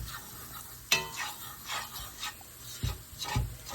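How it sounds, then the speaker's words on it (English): A spoon scrapes and rubs through thickening southern-style sausage gravy as flour is worked in, with a sharp clank near the start and repeated close, soft scraping strokes. No one speaks. "you just want to stir it up until it's kind of thick around the sausage"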